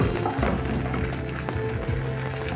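Grated coconut sautéing in a hot pan with green chillies for pudina tambuli, a loud, continuous close-up sizzle with faint stirring and no voices.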